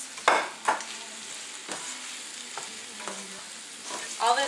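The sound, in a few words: pasta mixed with vegetables in a pan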